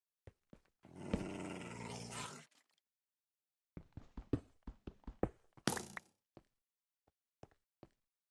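A dog gives a rough, sustained growl lasting about a second, followed by a scatter of sharp knocks and footstep-like taps, all fairly close and with no talking.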